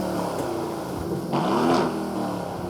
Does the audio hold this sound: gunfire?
no